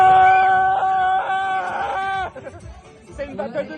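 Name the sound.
children screaming in a shouting battle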